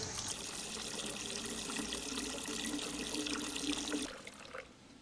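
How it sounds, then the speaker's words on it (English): Gasoline drains steadily out of a Kawasaki KLX 110L dirt bike, a continuous close trickle and splash of liquid that stops abruptly near the end. "Still draining out gas."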